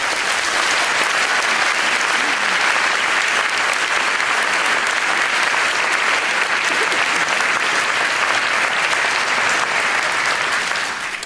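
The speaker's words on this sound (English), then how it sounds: "Thank you for the great applause" An academic-year opening audience breaks into sustained, loud applause after a scientist's speech, a dense, even wash of many clapping hands that holds for about eleven seconds before easing slightly at the end.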